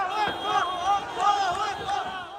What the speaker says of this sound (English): Outside the car, Hamas fighters and a huge crowd.